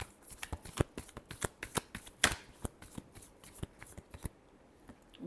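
Tarot cards being shuffled by hand, a quick run of crisp riffling flicks and soft slaps in an uneven rhythm, close and fairly quiet, with no talk.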